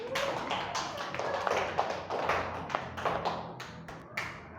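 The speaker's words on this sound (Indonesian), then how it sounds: "beri tepuk tangan untuk Osa" Classroom applause for a student, students clapping in an uneven, moderately quiet patter that lasts several seconds.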